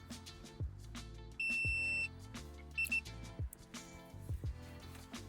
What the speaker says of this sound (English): There's some beeping.